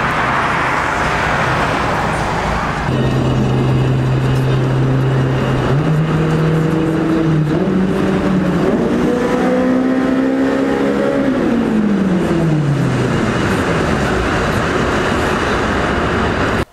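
A car in steady motion on a freeway, with a continuous loud road and engine drone throughout and an engine note that rises and shifts as it accelerates, heard from inside with no talking.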